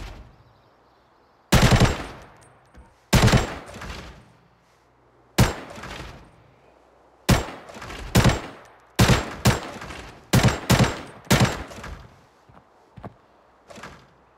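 Gunfire at practice targets in the shooter game Arena Breakout: loud, close shots in short bursts and single cracks, spaced irregularly across the clip with brief pauses between volleys.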